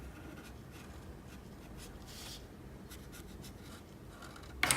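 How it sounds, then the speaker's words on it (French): A black Papermate felt-tip marker scratches faintly across paper while drawing and colouring in a pop-art figure, in short soft strokes and rubs with a small click at the end. "Après, j'utilise un feutre noir Papermate."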